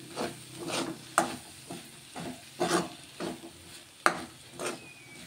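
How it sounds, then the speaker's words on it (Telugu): Potato curry with fresh coriander stirred in a pan, a spoon scraping in several bursts with a soft sizzle beneath, close and moderately loud. "కొంచెం కొత్తిమీర వేసుకొని అంతా కలిపేసుకుంటున్నా."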